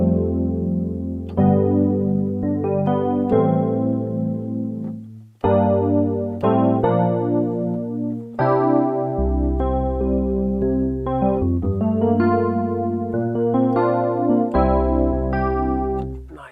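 Roland Gaia 2 playing a JX-8P-style synth piano patch: layered sustained chords and melodic phrases, bright and slightly chorused, loud and alone, with a brief dip mid-passage.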